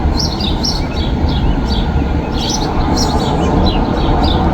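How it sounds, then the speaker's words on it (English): Red robins singing in a backyard after rain, repeated bright chirping phrases over a steady low rumbling background, moderately distant and without speech. "You can hear them singing. Lots of birds around."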